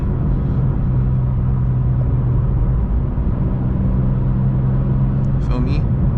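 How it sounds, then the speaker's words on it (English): A BMW M2 with catless downpipes and its exhaust valves open in M2 sport mode drones loudly and steadily as it drives, with a continuous low engine rumble and a brief higher sound near the end. "Let y'all hear the Catless downpipes a little bit."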